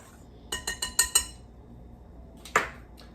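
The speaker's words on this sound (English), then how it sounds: "So I'm going to whisk it in." A whisk clinks against a bowl while stirring yeast into gluten-free flours: five quick, bright metallic taps in a row, a pause, then one louder clink, all close and without talk.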